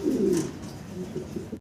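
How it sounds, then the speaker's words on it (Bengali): A red magpie pouter pigeon, a single male, coos in low soft throaty notes, close and fairly quiet, with faint background sound. "আরো এক পিস সিঙ্গেল ম্যাকপাই পটার কবুতর দেখাচ্ছি রেড কালারের"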